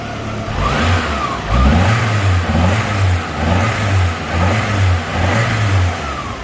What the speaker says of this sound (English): Engine is still cold, as I mentioned. It is a cold start